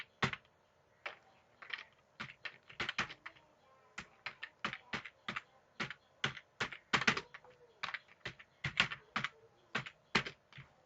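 Close, clicky typing on a computer keyboard, steady bursts of keystrokes with brief pauses between words, heard alone in a quiet room.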